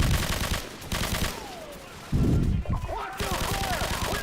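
Bursts of video game gunfire during a campaign firefight, repeated rapid volleys close up with brief gaps, shouted voices in between the shots.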